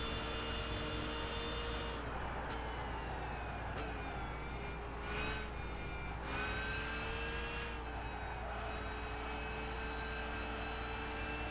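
A race car in Gran Turismo 5 accelerates hard through the gears, its loud, whining engine climbing and dropping with each shift over a steady background.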